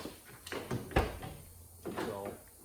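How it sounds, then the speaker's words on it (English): A restored car door with T-tops is shut firmly, giving a single solid thump near the middle, surrounded by lighter handling clunks and a quieter follow-up knock; no talking. "Door shuts pretty good."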